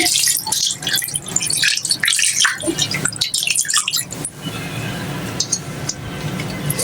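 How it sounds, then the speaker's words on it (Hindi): A glass of water poured into a cooking pot while making steamed chicken tikka, splashing and clinking at first, then settling into a steadier trickle. "अब हम इसमें 1 गिलास भर के पानी डाल देंगे।"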